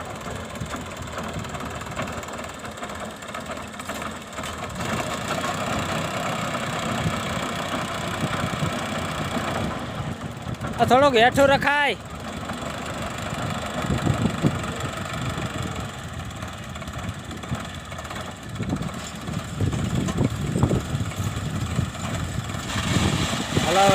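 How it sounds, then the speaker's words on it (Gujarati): A large 50–55 hp Sonalika tractor pulling a rotavator drones steadily and loudly throughout, with a short spoken remark partway through. "ટ્રેક્ટર મોટું છે એટલે જ ઉપાડે છે બાકી નાના ટ્રેક્ટર તો આમાં હાલે નહીં"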